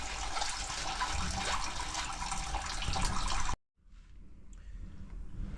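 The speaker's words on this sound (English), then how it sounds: "you don't want to see your oil draining for 5 minutes" Engine oil drains from the sump of a BMW F31 335d/330d during an oil change, a loud steady rushing pour that cuts off abruptly and then resumes more quietly.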